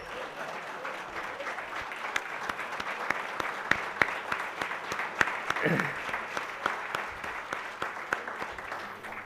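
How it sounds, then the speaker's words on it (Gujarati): An audience at the Livewellcon 2024 conference gives a standing ovation, a steady, fairly close round of clapping with crisp individual claps standing out throughout, plus a brief voice partway through. "બેઠા બેઠા તાળીઓ નહીં ચાલે, સ્ટેન્ડિંગ ઓવેશન જોઈશે જ મારે."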